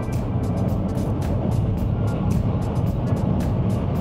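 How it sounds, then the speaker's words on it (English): A 2024 Ford Mach-E Rally electric SUV with its artificial propulsion sound enabled accelerates on a gravel rally course. A loud, steady broadband roar continues throughout, with rapid ticks of stones scattered on top. "all I have to do here is enable propulsion sounds"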